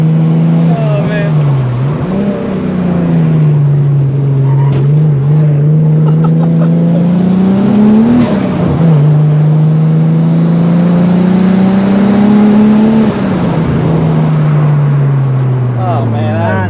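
Turbocharged VR6 engine of a Volkswagen Corrado heard from inside during a hill climb run, a loud, close droning roar whose pitch rises and falls with each gear pull and lift, with occasional voices under it.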